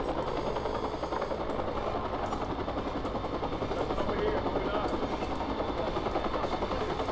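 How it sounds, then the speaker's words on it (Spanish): A helicopter in the video game Watch Dogs drones continuously with a steady rotor buzz for several seconds, loud and unbroken, with faint game effects beneath. "el problema aquí es el helicóptero"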